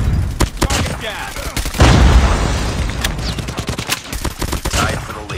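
Rapid video game gunfire in Call of Duty, loud bursts and single cracks repeating across the whole stretch, with a heavier blast near the middle and faint game voice callouts underneath.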